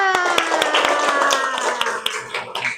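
Indonesian schoolchildren in a seventh-grade classroom clapping hands in a rapid rhythmic pattern, sharp claps over a sustained sung or chanted tone from the class.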